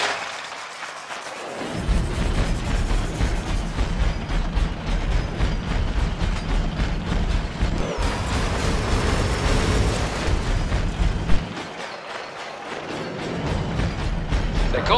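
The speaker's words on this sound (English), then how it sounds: "They call that one Artie for his heavy artillery cannon." Heavy artillery cannon blasts and rumbling explosions from the video game Iron Brigade roar continuously, loud and dense, with booming bursts throughout.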